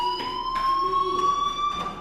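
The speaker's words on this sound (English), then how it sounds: "Hey, do you hear that fire alarm?" A fire alarm rings in the video game Life is Strange: a steady, shrill electronic tone that holds through the clip, with pulsing bursts of noise layered over it, loud and close, with no talk.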